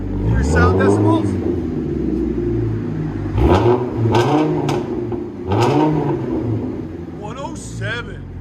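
A 2006 Chevy Colorado with a 3.5L five-cylinder and straight-piped exhaust blips through a series of loud, raspy revs that rise and fall, while people talk and cheer excitedly over the engine noise.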